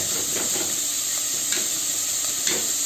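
Onions stirred and frying in a pan with a steady bright sizzle throughout, a spoon scraping through a few times at an even pace.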